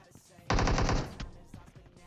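Gunfire in the mobile battle royale game PUBG Mobile comes as a close, loud burst of rapid automatic shots lasting about half a second, then fades into softer game noise and muffled movement.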